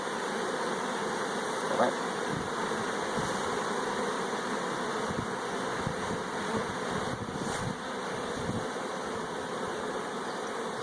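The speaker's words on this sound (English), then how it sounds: "We've got a swarm." Honey bees swarm around hive boxes in a dense, steady buzz that fills the scene for the whole stretch, with a brief spoken remark near the start.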